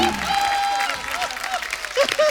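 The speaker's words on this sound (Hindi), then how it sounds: "जोरदार तालियां कपिल शर्मा के लिए" A studio audience at The Kapil Sharma Show, a TV comedy show, breaks into loud, sustained clapping and cheering, with some tonal sound mixed in beneath the applause.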